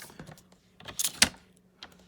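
Vellum paper cut on a paper trimmer, giving a few quiet clicks and then two sharp slicing swishes close by, the second the loudest, with silence in between.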